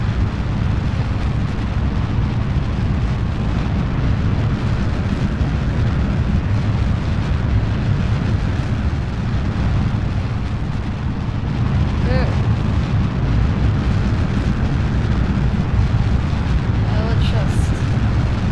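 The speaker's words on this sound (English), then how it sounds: "We have liftoff of the Mud Rocket 1." Mud Rocket 1 lifting off in Kerbal Space Program: a loud, dense, continuous rocket roar with deep rumble throughout, steady and unbroken for the whole stretch.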